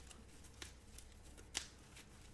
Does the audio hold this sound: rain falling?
no